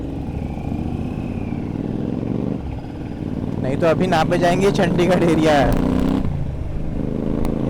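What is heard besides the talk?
motorcycle engine revving with loud exhaust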